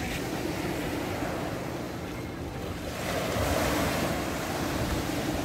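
Sea waves wash onto a sandy beach at Kabardinka on the Black Sea, a steady broadband surf that swells louder midway, with some wind noise on the microphone and no talk.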